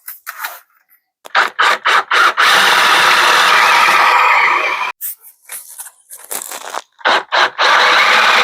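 Power drill boring holes in wood with a 1.5 inch Forstner bit, heard as several loud bursts of drilling separated by short pauses, with one longer sustained run in the middle.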